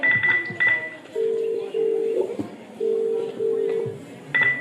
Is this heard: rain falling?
no